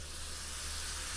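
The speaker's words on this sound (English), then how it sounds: "Ooh, you hear that sizzle?" Browning sauce sizzles in a hot pan with turkey wings, a short, steady hiss heard up close with no talking.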